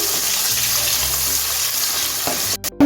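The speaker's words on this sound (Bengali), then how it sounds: "এখন আমি আগে থেকে কেটে রাখা পেঁয়াজটা দিয়ে দিচ্ছি পেঁয়াজটা আমি এক মিনিট ভেজে নিচ্ছি" Chopped onion fries in hot oil in a pan for matar paneer pulao, a loud, continuous close-up sizzle that cuts off abruptly at the end.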